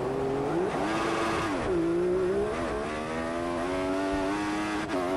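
A Formula 1 race car engine in the F1 2014 racing game at the Belgian Grand Prix screams continuously at high revs, its pitch rising and dipping through gear changes as the car nears the end of a race.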